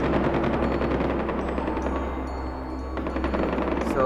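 Far Cry 4 weapons fire in rapid automatic bursts, a continuous loud rattle of game gunfire lasting the full length with a brief lull near the middle.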